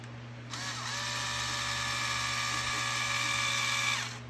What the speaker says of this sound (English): if you're using an electric screwdriver like I am, this is where you have to be careful when you're putting it back together